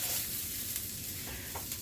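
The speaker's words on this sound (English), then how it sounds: "I've incorporated my vegetables and I'm getting them all cooking here" Vegetables sizzle steadily in a hot pan while cooking for gumbo, a close, continuous frying hiss with a few faint stirring scrapes.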